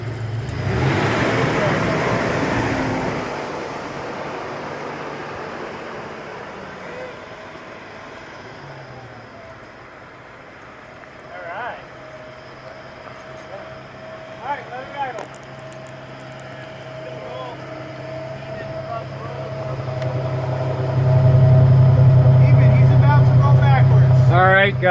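A 1998 Toyota Tacoma engine with 300,000 miles idles at length, then revs up loudly near the end, with people talking over it throughout.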